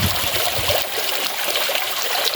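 A thin stream of water trickles from a garden water supply in a yard, a steady close splashing hiss that barely changes throughout, with no one talking.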